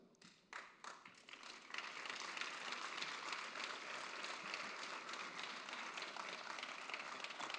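Audience applause breaks out during an opening speech at a French business conference, a few scattered claps first, then swelling into steady, dense clapping from a large hall that holds at full strength.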